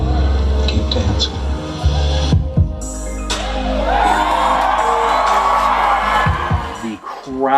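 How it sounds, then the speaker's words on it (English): A near standing ovation from a crowd cheering a fursuit dance performance: loud, sustained whoops, shouts and yells right up close, with a brief dip in the middle before the roar continues. "Crowd gave us a near standing ovation, and I could not hear anything over the cheers"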